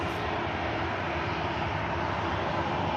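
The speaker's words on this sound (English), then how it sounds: "Jingles, that is now the 350 of Cathay Pacific on the taxi out." Cathay Pacific Airbus A350 airliner taxiing out at Manchester Airport, a steady broad engine roar with a brief high whine at the start, constant and fairly distant, no voices.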